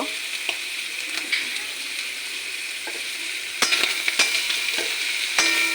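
Onion paste and Kashmiri chilli sizzle and fry in a pan for a Bengali kechki fish chorchori, with a constant hiss broken by scraping stirring strokes that grow louder later.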